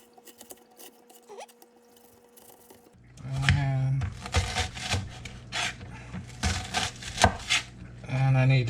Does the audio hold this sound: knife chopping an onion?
yes